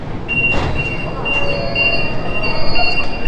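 A train running on rails during a ride to a stop near the old town of Guandu gives a steady, close rumble, with thin high wheel squeals drawn out over it throughout and no clear talk.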